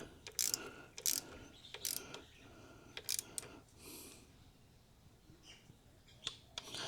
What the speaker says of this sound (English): So I've got my little torque wrench here set to about 4, which is what the instructions state.